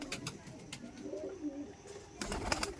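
A Madrasi pigeon gives soft, low coos close by, with a few sharp clicks and light rustling around the calls.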